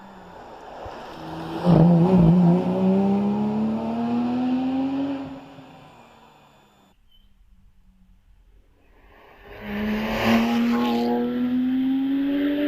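Porsche GT3 race car on a hillclimb run at Prescott, its engine rising in pitch through the gears as it passes close and loud, fading out, then another strong revving pass building again.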